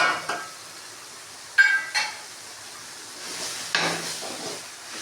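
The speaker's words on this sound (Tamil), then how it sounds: "இதையும் இதில் போட்டு வதக்கிடுங்க" Ginger, pepper, cumin and turmeric sautéed in a pan for a chicken liver dish, giving a soft, steady sizzle with a few stirring scrapes and light clinks of a utensil against the pan.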